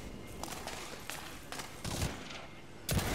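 Gunfire in the online shooter Blacklight Retribution: a rapid scatter of sharp shots and bursts, some distant and some closer, repeating irregularly over a steady background din.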